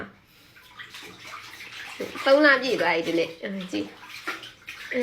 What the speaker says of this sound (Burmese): ရေကစားတယ်အဲ့ခြေထောက်ကနေပတွန်းပတွန်းပတွန်းပတွန်းဆိုကစားတယ်